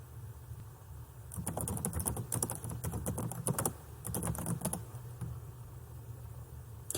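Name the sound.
typing a search on a computer keyboard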